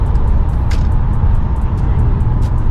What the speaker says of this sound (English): this is throttle response